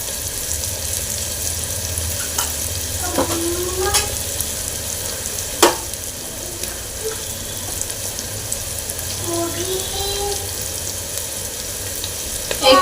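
Curry leaves crackle in hot oil with a steady loud sizzle and occasional spits and pops, while a brief clatter sounds in the middle.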